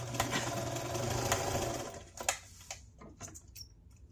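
A sewing machine stitches the corner of a self-binding casserole-size hot pad, a fast continuous mechanical chatter for about two seconds, then stopping into a few scattered clicks and taps of handling fabric, close and quiet.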